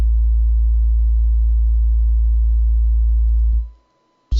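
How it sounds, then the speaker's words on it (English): A loud, steady low sine tone from a signal generator with its gate bypassed, holding unbroken for about three and a half seconds before fading quickly to silence. "the signal generator is just going to play one steady, endless tone"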